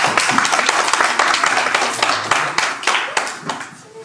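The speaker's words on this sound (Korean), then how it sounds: "박수." A group of people clapping hands together in an indoor gathering, a dense burst of sharp claps that thins out and fades toward the end, heard alone without talk.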